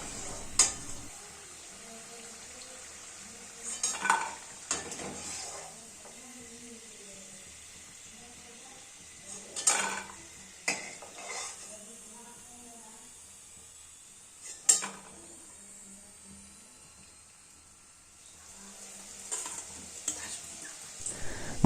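Homemade french fries frying in oil in small batches, a soft hiss broken by clattering stirs and scrapes against the pan every few seconds, fairly faint overall.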